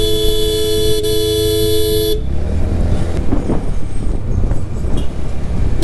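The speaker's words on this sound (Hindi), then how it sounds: "सीधा जाओ अपना रेस देते हुए हॉर्न बजाते हुए" A TVS NTORQ scooter sounds a loud, steady multi-tone horn on the road for about two seconds, then it cuts off, leaving continuous engine and road noise from the moving scooter.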